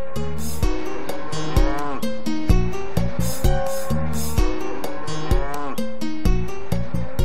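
Cattle on a French farm moo again and again, loud and close, with deep, drawn-out calls overlapping in a steady rhythm.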